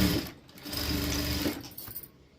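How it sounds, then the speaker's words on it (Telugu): A sewing machine runs steadily, stitching a straight line of piping on a blouse, a continuous close mechanical whir that slows and stops near the end. "ఇలాగా ఫస్ట్ 1/2 ఇంచ్కి స్ట్రైట్గా కుట్టు వేసుకోవాలి"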